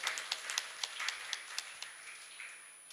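An audience claps to welcome a harmonium player at a yoga and devotional music event, with faint, sparse claps in an uneven rhythm that fade out by the end.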